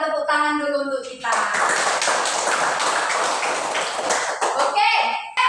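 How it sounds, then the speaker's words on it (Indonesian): A class of third-grade children bursts into rapid, dense hand clapping for several seconds, sandwiched between short bits of talk at the start and end. "Tepuk tangan dulu untuk kita."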